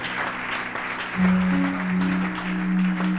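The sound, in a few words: church congregation applauding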